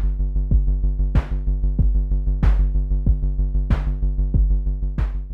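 Kick and snare from a drum synth run alongside the Kickall bass synth by Bufaco in VCV Rack on a shared clock: a steady pulsing bass drone under repeating thumps and periodic crisp snare cracks, loud and continuous.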